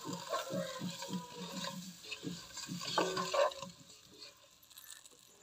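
Boiled eggs fry with chili powder, salt and garam masala in a pan, giving soft crackling sizzle with scraping stir strokes and a few glassy clinks, fairly quiet and close.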